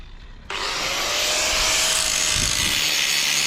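An angle grinder cleaning up welds on a steel swim ladder for a sailboat starts abruptly and then whines steadily and loudly against the metal, with rough grinding texture throughout.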